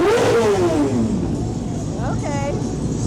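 Motorcycles of the Iron Rockets Motorcycle Club rev and roar past in a Veteran's Day parade, a loud continuous engine drone with a rising then falling rev, while people talk over it.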